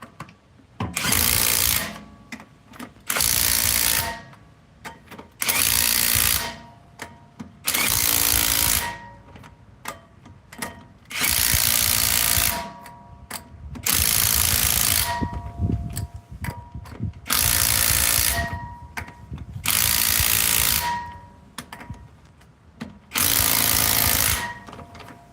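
Repeated loud bursts from an impact wrench driving lug nuts onto a 2011 Ford Mustang during a rear brake job, about ten rattling hammering runs separated by short pauses, close and without speech.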